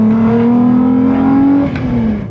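A lightweight car built over 20 years as a high school dream car revs hard on its first drive, its loud engine note with cam and exhaust sound rising steadily, then easing off near the end.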